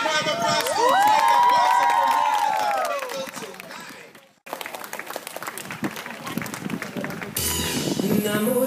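An audience bursts into applause and cheering with a shrill whistle-like cry over the crowd, the clapping fading out midway before a second burst of clapping and crowd noise resumes.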